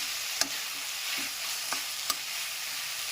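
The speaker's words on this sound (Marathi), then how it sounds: "त्यावर टाकणार आहोत आपण ओलं खोबरं, आपण व्यवस्थित हे सगळं परतून शिजवून घेणार आहोत" Grated fresh coconut stir-fried in a pan over a low flame gives a soft, steady sizzle, broken by a few sharp spatula scrapes and taps, with no talking.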